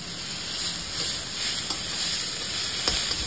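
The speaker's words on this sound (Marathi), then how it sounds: "आता मी टोमॅटो घातले। टोमॅटो सुद्धा उभोच कापून घेतलेले। टोमॅटो मऊसर होऊन शिजूसर परतून घेऊचा।" Tomatoes sautéing with onions in a pan for a Malvani black pea usal give a steady close sizzle, with a few soft stirring clicks and no talk.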